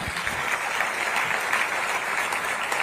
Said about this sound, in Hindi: बहुत बहुत तालियां बजें।